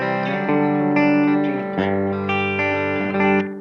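An electric guitar runs through an Xvive V21 Echoman analog delay pedal set to a very short delay, giving sustained, ringing chords a spring-reverb-like wash, loud and close with no talking.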